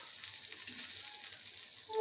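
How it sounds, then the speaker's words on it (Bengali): Shrimp fritters made with lentil batter fry in hot oil in a pan over low heat, giving a steady, fine crackling sizzle, soft and continuous, with a brief louder pop at the end. "আর এরকম করে আমি সবগুলো বড়ি ভেজে নেব"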